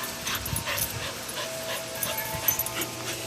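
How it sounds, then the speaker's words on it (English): A puppy whimpers and yips in short, high, irregular cries, close and fairly loud, with faint background noise and no speech. "I'm gonna get the puppy"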